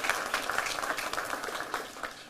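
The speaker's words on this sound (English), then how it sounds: "Give Ms. Donna Coleman Stribling a round of applause" An audience applauds at a police press conference, a brief burst of scattered clapping from a modest crowd, fairly soft and slightly distant.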